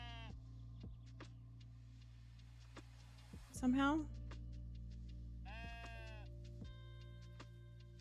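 A few bleats from sheep in the cozy building game Tiny Glade, including one louder, clearer call midway, heard over a soft steady background hum while a person speaks quietly.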